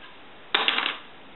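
A single light, hollow clatter as a hard, dry piece of pork rind drops onto a surface and briefly bounces, then quiet.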